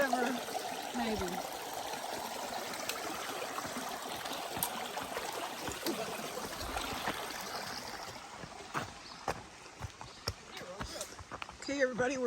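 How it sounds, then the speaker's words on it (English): A river rushes steadily as a hiker on an Appalachian Trail thru-hike wades across, the dense broadband flow filling the whole stretch with scattered splashes and sloshing steps near the end, under occasional talk. "Crossing the river."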